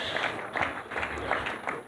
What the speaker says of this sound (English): I think the MD deserves another round of applause for that wonderful speech